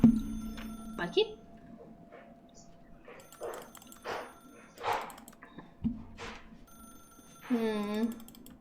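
Telephone ringing in The Stanley Parable video game, repeated ring bursts at steady intervals, near and clear, with a voice talking over and between them.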